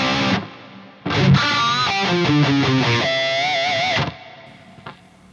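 Electric guitar played through a Neunaber reverb pedal into a Marshall amp: a struck chord, then a run of distorted single notes leading into a held note, with the roomy tail dying away into near silence.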